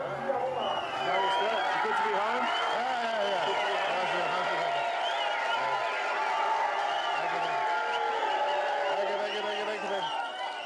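Crowd at an election rally in Tari, Papua New Guinea, a steady dense murmur of many voices with scattered shouts and calls, continuous and fairly loud throughout.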